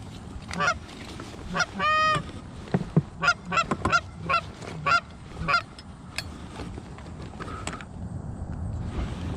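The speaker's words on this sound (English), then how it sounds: "That's a goose." Geese honking on a river during a kayak goose hunt, a series of loud nasal honks in irregular bursts, fairly close, then fading into quiet water ambience.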